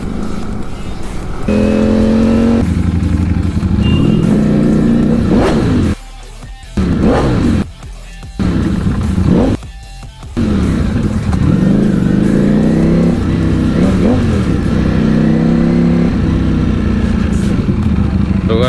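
A Ducati Panigale motorcycle on the road, its engine roaring loudly and steadily with rising and falling revs through gear changes, close and continuous with brief drops, while a rider talks over it.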